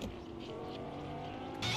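A car in Fortnite drives along with a steady engine drone and faint tire noise at a moderate level, followed by a brief louder burst at the end.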